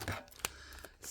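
A quick snip of scissors cutting into a tea packet, a couple of short crisp clicks close up and quiet.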